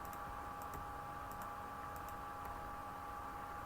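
Typing on a computer keyboard in a quiet room while working in Microsoft Access, a faint run of scattered key clicks over steady background hum.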